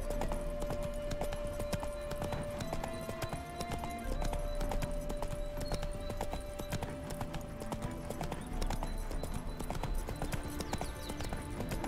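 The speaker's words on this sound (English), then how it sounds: "Spooking my horse." Horse hooves clip-clop in a steady walking rhythm in The Witcher 3: Heart of Stone video game, accompanied by a faint sustained tone and background music-like ambience.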